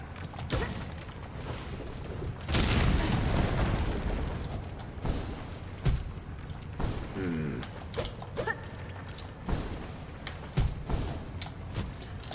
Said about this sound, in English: I'll just wait out over here for the explosion to go off.